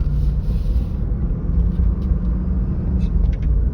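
A lifted Jeep Grand Cherokee with a 4-inch lift drives along a road, its steady low engine and tire rumble filling the cabin continuously and loudly, with faint brief clicks near the end.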